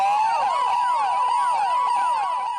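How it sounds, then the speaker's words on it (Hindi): Police sirens on motorcycles and vehicles whoop in a loud, rapid, repeating rise-and-fall cycle, close by and continuous, several units layered together with no speech. "सायरन की आवाज सुनकर आसपास रहने वाले कई लोग घरों से बाहर आ"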